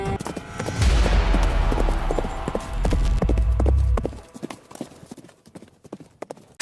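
Horse hooves gallop in a rapid, loud clatter layered over a low rumble, then thin out into scattered hoofbeats that fade as the horse moves off.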